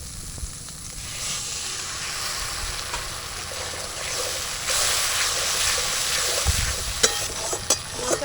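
Spiced masala for ghugni fries in oil with a steady, dense sizzle and hiss, broken by occasional spoon scrapes and clinks against the pan, close and continuous.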